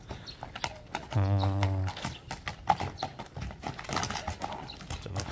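A horse's hooves clop steadily on the ground nearby, and a brief whinny rises partway through amid outdoor background noise.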